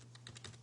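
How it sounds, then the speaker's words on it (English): Quick keystrokes on a computer keyboard while entering a game console command, several soft, close taps in a fast, even rhythm, quiet and with no talking. "hit the tab key and type add bots space 1"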